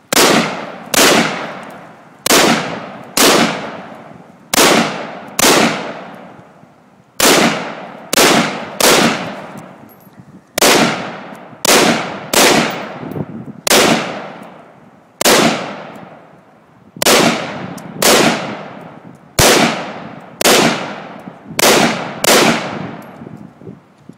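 A gun fired again and again at close range, sharp loud cracks each with a quick decaying echo, coming in uneven pairs and bursts about every second for more than twenty seconds, with no voices.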